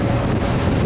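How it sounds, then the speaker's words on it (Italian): Wind buffets the microphone on a fast inflatable speedboat crossing open sea at around 30 knots, a loud, constant rushing roar mixed with engine and water noise, with no voices. "Speriamo che si sente la voce perché c'è un po' di vento."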